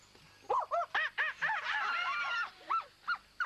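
A teenage girl on a quiz show imitates a bird call with a voice, giving a run of about nine short, clear honking hoots with a steady rhythm, close and fairly loud, and no talking over them.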